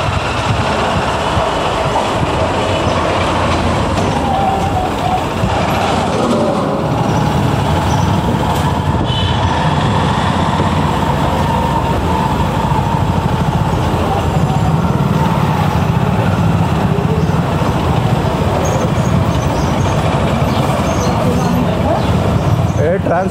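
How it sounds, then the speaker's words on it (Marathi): Heavy rumble of large transport trucks moving through the crowded Mahad market, a continuous loud engine drone with passing vehicle noise; someone talks over it. "हे ट्रान्सपोर्टचे मोठे गाड्या येतात ना, हे सगळं ट्रॅफिक जाम करून टाकतात पार्क होईपर्यंत"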